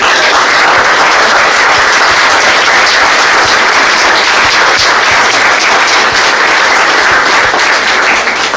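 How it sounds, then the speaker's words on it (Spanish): A large medical conference audience applauds a doctor after a presentation on severe traumatic brain injury, producing dense, loud, sustained clapping that fills the room steadily and evenly from start to finish with no talk over it. "Un aplauso."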